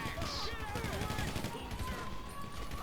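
Rapid automatic gunfire rattles continuously during a GTA 5 heist mission, dense bursts of shots running throughout, with a player talking over it.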